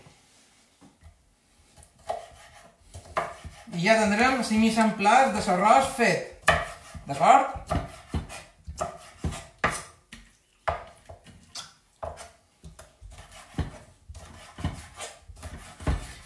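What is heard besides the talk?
chopping cuttlefish into strips or squares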